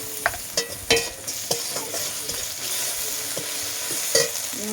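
Onion, garlic paste and spices sizzle and fry in a pan while being stirred, with repeated scraping clicks of a spatula over a steady frying hiss, close and fairly loud.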